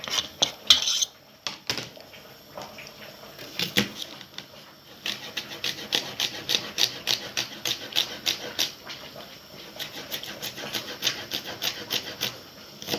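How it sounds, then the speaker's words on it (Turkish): Rapid, uneven knife chops through onion on a cutting board, crisp and close, with scraping between strikes and no talking. "Şu anda soğanı doğruyoruz."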